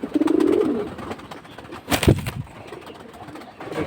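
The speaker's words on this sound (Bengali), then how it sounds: "তোতা কবুতর" Toti pigeons coo nearby, with a soft burbling call at the start and another short, deeper coo midway, against a quiet background.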